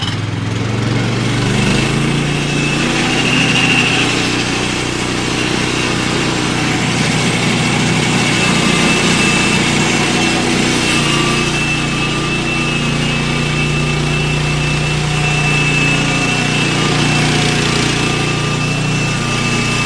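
Sawmill cutting slowly through a log with a Woodland Mills blade resharpened five times, a steady loud small-engine drone with a constant whining cut, close and unbroken for about twenty seconds without talk.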